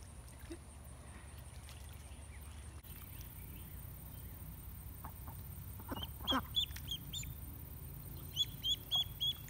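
Ducks beside a garden pond let out scattered, fairly faint quacks in short bursts toward the end, over a quiet outdoor background.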